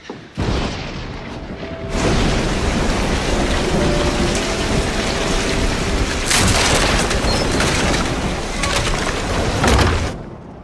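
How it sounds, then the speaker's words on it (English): Heavy rain hammers down steadily while deep thunder rolls and booms through the storm, with a sharper crack surging in the second half before easing off near the end. "The thunder startled me."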